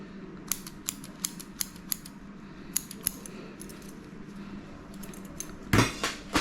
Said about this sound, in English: and then you just take scissors